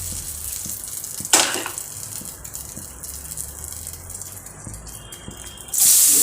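A bay leaf drops into hot oil in a pan with a sharp burst of sizzling, followed by a quieter steady crackle and a second loud spray of hiss near the end.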